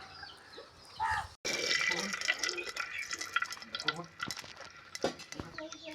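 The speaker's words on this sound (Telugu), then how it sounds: "ఇలా శుభ్రంగా 2 సార్లు కడుక్కోవాలండి." Mushrooms being washed by hand in a bowl of water, with stirring, sloshing and dripping sounds plus clinks of a pot, fairly close. A voice talks over part of it.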